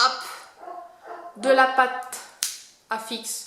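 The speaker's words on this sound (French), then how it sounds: "Ça c'est le chien qui n'est pas content." A displeased dog barks and yips in a few sharp, close bursts, mixed in with someone talking nearby.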